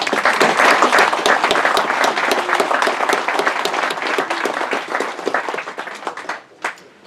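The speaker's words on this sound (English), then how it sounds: "if would you please stand so we can recognize you with a round of applause" Lecture audience at an evening map-library event applauding board members, a dense, sustained round of clapping filling the room, easing off and ending with a few last claps.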